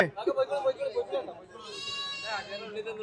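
A goat bleats in a drawn-out, wavering call midway through, with people talking nearby before and after, at the Chattiparamba livestock market.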